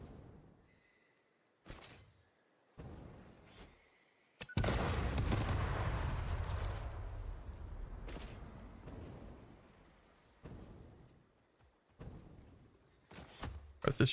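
Explosions in the video game Satisfactory, several sharp booms spaced apart, one large blast rolling into a long rumbling decay, then more scattered bangs, mostly near and loud against quiet gaps.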